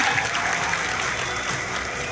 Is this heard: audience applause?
yes